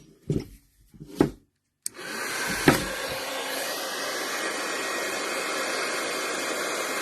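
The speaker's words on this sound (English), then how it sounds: "And going to bring my heat tool in." A handheld heat tool for craft embossing switches on and blows a steady, loud rush of hot air that carries on without a break, with a few soft handling knocks just before it starts.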